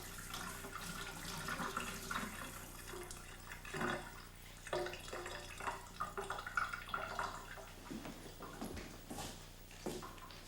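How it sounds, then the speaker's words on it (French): Tap water runs in a quiet room to wet the filters of a wine-making kit's filtration system, a soft, uneven splashing and trickling with occasional drips and clunks, faint and fairly close. "D'abord, mouillez les filtres pour permettre à ceux-ci de se dilater."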